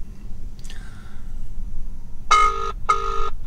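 A phone call rings through an ATOTO P8 on-dash navigator in a car, two short electronic ring bursts sounding close and clear over low road rumble, after a faint earlier tone.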